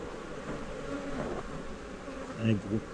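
Dense, steady buzzing of many honey bees close by at an opened hive, a continuous drone with a few louder passes near the end.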